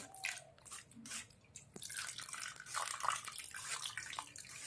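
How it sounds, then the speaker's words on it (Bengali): Water splashing and trickling as fresh chhena, cottage cheese curdled with vinegar, is rinsed for rosogolla, a steady close wet wash with drips and small splashes, no talk. "খুব সুন্দর করে ছানাটাকে ধুয়ে নিতে হবে"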